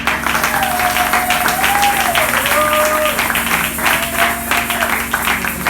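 A church congregation applauds loudly for the Lord, a dense, sustained wall of clapping across the whole stretch with voices and musical tones mixed into it.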